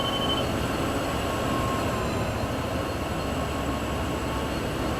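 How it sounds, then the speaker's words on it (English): A locomotive rolls past in Train Sim World 3 as a steady, loud rumble of wheels and engine, with a faint high whine holding over the continuous drone for the whole stretch. "Oh, here comes another Loco."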